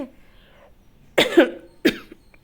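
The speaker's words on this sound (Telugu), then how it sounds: "సారీ మళ్ళీ మధ్యలో దగ్గు వచ్చింది" Two harsh, close coughs in quick succession break a quiet pause after faint speech.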